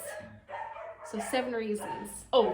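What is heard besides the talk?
dog barking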